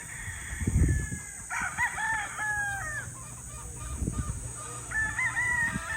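A rooster crows repeatedly, its harmonic calls rising and falling in clear bursts across the clip, with low rustling and thumps from the surroundings underneath; no talk is heard.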